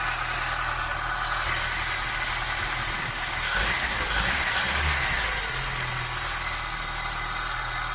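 An Austin Allegro engine idles steadily after a carburettor service, a low, even rumble with a brief slight rise in the middle, close by and alone.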